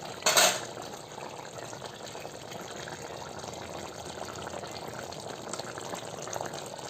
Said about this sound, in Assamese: এয়া মাংসখিনি ধুনীয়াকৈ উতলি আছে